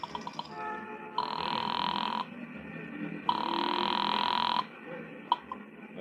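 An old telephone rings twice after a nickel is dropped and a number dialed in a classic detective radio drama, two long buzzing rings separated by a pause, followed by a click.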